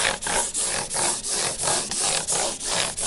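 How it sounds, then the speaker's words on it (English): Guitar frets being sanded with 600 grit abrasive, a close rhythmic back-and-forth rubbing with about nine even strokes, each a short swish with a brief dip between passes. "Okay, so now I'm running some 600 on it."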